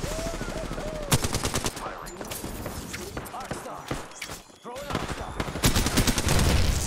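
An Alternator submachine gun fires in Apex Legends in loud rapid bursts with short gaps, mixed with other game effects and steps, and someone talks over the shooting.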